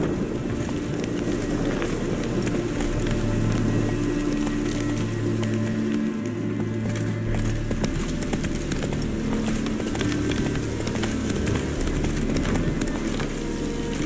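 Hooves of the horse Roach galloping steadily in The Witcher 3, a continuous loud rhythmic clip-clop under dense ambient noise throughout, with faint voices now and then.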